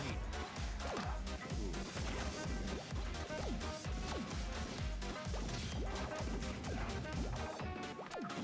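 Forward smash attacks land repeatedly in a Super Smash Bros match at a Push More Buttons 2018 top 8 tournament, with a dense stream of sharp, loud hits and crashes over continuous busy game sound.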